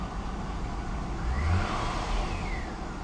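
A Pontiac G8 GT with a damaged transmission and its check engine light on runs a little rough, a faint steady engine drone that swells briefly with a slight rev midway.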